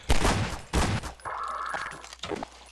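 Gunfire in Garry's Mod, two heavy, close blasts followed by a sustained hiss-like burst and a fainter shot near the end.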